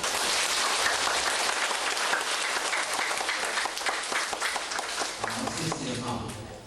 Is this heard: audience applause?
yes